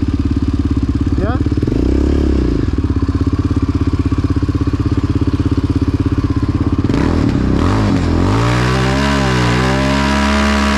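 A Yamaha Raptor 700 ATV engine revs hard and loud up close while burning rubber, rising and falling in pitch with rattling and clatter as it strains, ending with a seized engine.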